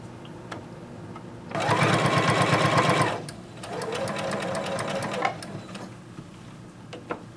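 A sewing machine stitches a skater dress seam in two rapid bursts, the first louder and about a second and a half long, then a steadier run after a brief pause, followed by a few faint clicks; close, with no talking.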